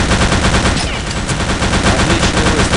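Gunfire in the World War II shooter Return to Castle Wolfenstein, a loud, dense burst of rapid shots that runs without a break for a few seconds.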